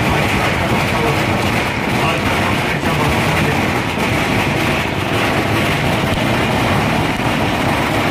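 Dense, continuous crackling roar of firecrackers bursting in rapid succession at a political rally in Nira, loud and unbroken throughout, with a speaker's voice buried underneath.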